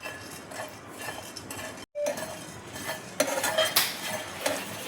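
Whole spices such as dried red chilies, coriander, cloves and fennel dry roast in a pan, stirred with a metal utensil that scrapes and clinks repeatedly and closely, alone without talk.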